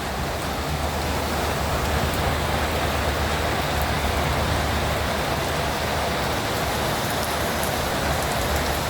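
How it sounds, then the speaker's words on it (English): Heavy rain pours steadily and evenly, a dense continuous hiss of drops on surfaces with no breaks and no voices. "It's raining good now."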